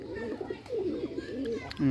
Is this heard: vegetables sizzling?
no